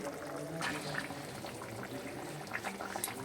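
A pot of Bengali-style chicken and potato curry (aloo jhol) bubbles quietly on the stove, with soft, continuous simmering and popping at a low, steady level.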